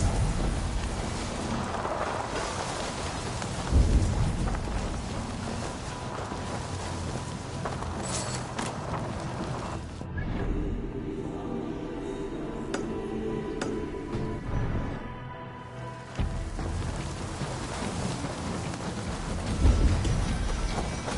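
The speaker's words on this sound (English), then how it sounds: "What's all the thunder?" Thunder rumbles over steady rain in the video game Assassin's Creed Valhalla, with a few loud low booms and a dense rain hiss that thins for a few seconds midway before swelling back.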